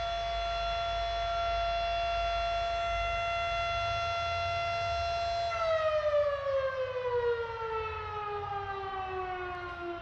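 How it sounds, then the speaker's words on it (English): A tornado siren in Texas wails continuously, holding a steady pitch before slowly sliding downward, loud and sustained with no voices present. "That's a tornado siren, by the way."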